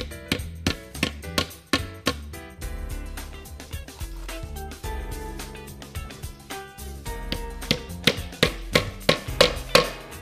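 Starting clips being stapled onto Panaget Bois Mural wooden wall panel boards: a run of sharp, close staple shots, some in quick pairs, with steady music underneath.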